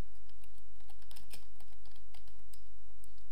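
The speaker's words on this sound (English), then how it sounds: "So I'll just type anything," Fingers type on a computer keyboard, with a quick, uneven patter of close key clicks and a louder keystroke midway, over a constant low hum.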